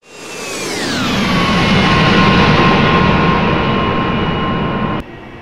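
AV-8B Harrier jet in forward flight in the DCS combat flight simulator, a steady loud engine whine and roar. The pitch falls smoothly at the start, then holds as a sustained tone before cutting off abruptly near the end.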